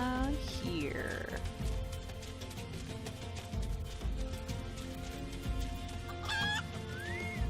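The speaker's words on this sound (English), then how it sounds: "Little green chicken." Green chicken in Final Fantasy XIV clucking amid steady game music, with short bird-like chirps near the start and again toward the end, moderately loud and continuous.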